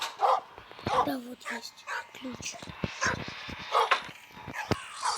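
A costumed dog in a video game lets out short yips and whimpers among other game sounds, while someone talks over them.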